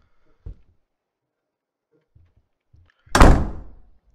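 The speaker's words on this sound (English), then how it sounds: "Door closed." A door in a horror game set in a hotel closes with one heavy, booming thud that rings out briefly. A few faint knocks and creaks come before it in otherwise near silence.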